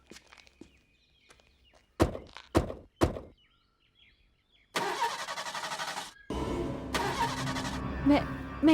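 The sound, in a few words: car engine cranking, failing to start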